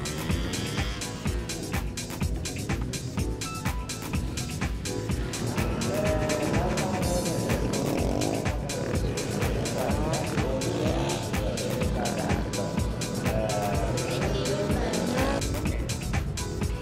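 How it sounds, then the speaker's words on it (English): A motorcycle rides a tight figure-8 between two cones in a gymkhana run, its engine revving and dropping steadily through the turns, loud and continuous throughout. "the bike is turning between two cones. This is figure 8."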